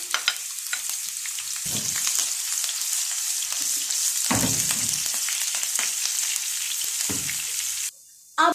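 Loud, steady sizzling of green chillies frying in hot oil, with occasional stirring clatter, close by and continuous until a brief pause near the end.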